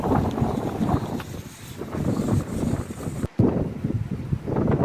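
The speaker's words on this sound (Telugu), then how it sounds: "సో చూసారు కదా గాలి ఎంత వస్తుందో" Strong wind roars and buffets the microphone continuously on top of Kanigiri Hill, loud and gusty, with a brief drop partway through before the blustering resumes.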